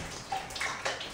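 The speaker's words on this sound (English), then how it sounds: "That is a lot of water." Sewage water leaking and flowing into a room rushes and splashes steadily at close range, with brief gurgling surges and no talk.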